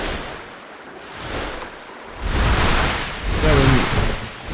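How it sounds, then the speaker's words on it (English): Ocean surf rolls and crashes around a boat sailing at sea in a survival video game, the whooshing water swelling louder in the second half, with wind noise and no talking. "these waves"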